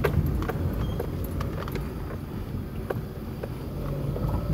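A Ford Fiesta with a small 1.0-litre engine labours up a dry dirt hill in the countryside, a steady low motor drone buffeted by wind and rattling over the rough track.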